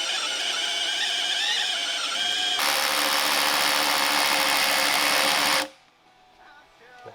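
A power drill whines steadily as it bores into stone, with a loud constant motor drone that rises in intensity midway and then stops abruptly, leaving near silence.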